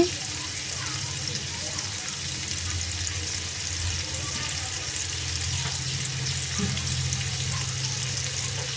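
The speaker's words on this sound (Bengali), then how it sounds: "চিংড়ি মাছ ভেজে নিচ্ছি।" Prawns frying in a pan with a little turmeric, cooking for a Bengali potoler dorma, give off a steady, loud, close sizzle that holds evenly from start to finish with no break.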